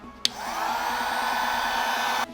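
A heat gun blows steadily on a dirt bike graphics decal laid over a plastic fender, a continuous loud whooshing hiss with a faint low hum, starting with a sharp click and cutting off abruptly near the end.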